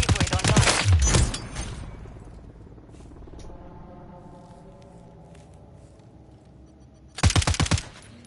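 Two loud bursts of rapid gunfire in a shooting video game, one at the start and another near the end, with a quieter stretch of game ambience between them.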